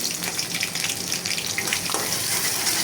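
Chopped raw onions fry in hot mustard oil in a pan for a curry: a steady, close crackling sizzle with small bursts of spitting that continues without a break, and no voices.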